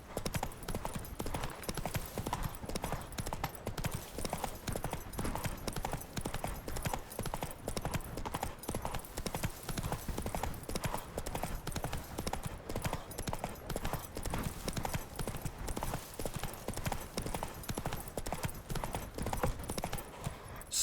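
Rapid rhythmic clip-clop of a horse galloping in The Witcher 3: Wild Hunt, continuous hoofbeats at a steady pace throughout, moderately quiet with no pauses.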